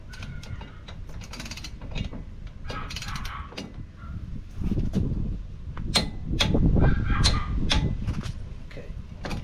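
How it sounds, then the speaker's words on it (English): A torque wrench tightens the inner tie rod on a Gen 3 Mitsubishi Montero to 65 foot-pounds. It makes close, repeated ratcheting clicks with mechanical rattles and metallic taps at an uneven working rhythm. "So now got the torque wrench here, 65 foot-pounds, and we just torque"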